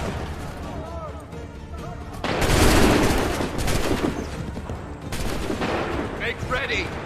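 A musket volley crashes out in an Assassin's Creed III battle, a loud, dense burst of overlapping gunfire and booming reports that rolls on for several seconds, with shouted voices beneath the din.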